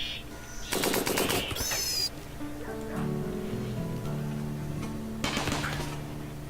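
Automated turrets in RimWorld fire at attacking rats in short, rapid bursts of crackling gunfire, one cluster early and another near the end, with scattered game tones and a quiet hum between the volleys.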